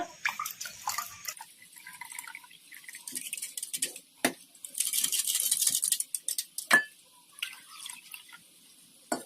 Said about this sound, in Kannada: ಈಗ ಇದಕ್ಕೆ ನೀರು ಹಾಕೊಂಡ್ಬಿಡೋಣ ಒಂದ್ ಸ್ವಲ್ಪ.